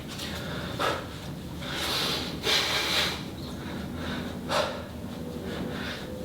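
Heavy, rhythmic breathing during a low-impact, no-equipment beginners' workout, with loud sharp exhales and snorts recurring every second or so, close to the listener, no talking.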